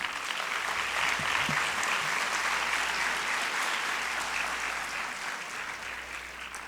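Steady applause from an audience fills the whole stretch, dense and even, with no speech over it.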